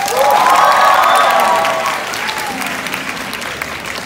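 Concert audience applause at a live show, dense and loud at first with a few cheers and shouts mixed in, then gradually thinning and softening as the clapping dies down.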